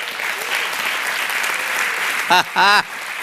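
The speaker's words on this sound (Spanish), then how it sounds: "toda esta iglesia también te envía un aplauso" A church congregation applauds in a steady, even roar of clapping, and a voice breaks in briefly near the end over the fading applause.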